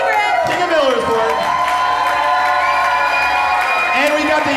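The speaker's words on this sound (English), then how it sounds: "Let's cheer for the best one." Game show audience cheering and whooping with applause and children's shouts, a loud, continuous mix of voices with a few sharp whistles rising over it.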